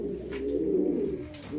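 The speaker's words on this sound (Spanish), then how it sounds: "con las palomas que están aquí y algunas que están arriba" Pigeons coo inside a loft, a low, throaty, sustained rolling call close by, with faint rustling around it.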